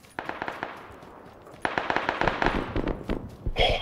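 Rapid bursts of gunfire crackle in a video game firefight, with sharp shots clustered in quick volleys and a louder flurry near the end.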